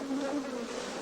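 Italian honeybees swarm around a royal jelly hive frame, making a steady, dense buzzing hum that fills the whole second, close and unbroken.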